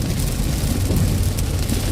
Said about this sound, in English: as the rain really drives down. Yeah, this is a nice tropical shower here.